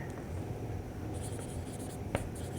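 A pen scratches steadily on paper as the median formula is written out during a maths solution, a soft continuous scribbling with one slightly sharper stroke near the end.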